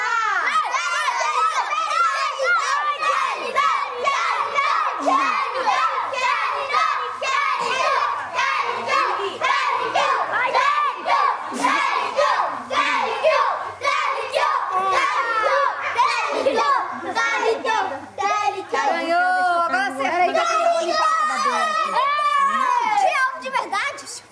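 Crowd of children shouting and cheering together, loud and sustained with excited high voices overlapping throughout, chatter mixed in.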